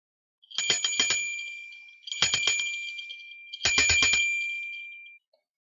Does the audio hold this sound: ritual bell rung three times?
yes